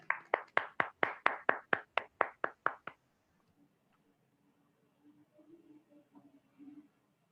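At a VLCC Wellscience business seminar, an audience claps in quick even rhythm, about a dozen crisp claps over three seconds, then quiet with faint voices murmuring.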